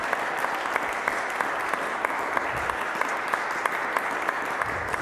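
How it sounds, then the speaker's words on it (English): Steady applause from a lecture audience, dense continuous clapping with a few sharper claps standing out, holding at an even level throughout. "So let's all give Greg a very hearty round of applause."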